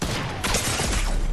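Rapid burst of gunfire in Fortnite, a loud, dense crackle of shots packed into barely more than a second, close and harsh.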